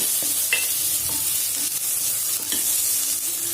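Onions sautéing in a pan for vegetable pulao give a loud, continuous sizzle close by, with occasional stirring scrapes and soft clicks of a spoon.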